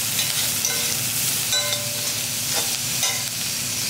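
Onions sauté in a pan, giving a steady, dense sizzle from start to finish, with a few stirring scrapes cutting through up close.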